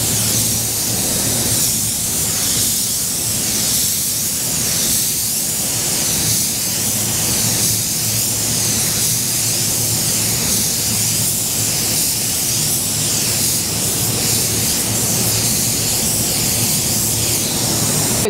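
Spray gun applying a second coat of white pearl paint to a car, a loud continuous hiss in long sweeping passes that swell and fade rhythmically.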